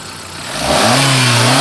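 Hyundai Santro 2007 XO petrol hatchback engine idling, then revving up sharply and holding a higher steady drone, close and loud, with no talking.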